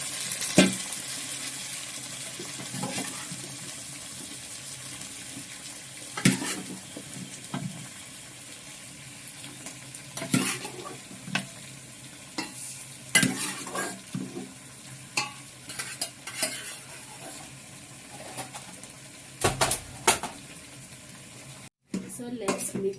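Meat and onions stirred in a pan in a home kitchen, with a low steady sizzle of frying broken by repeated scrapes and clinks of a utensil against the pot, near and fairly quiet.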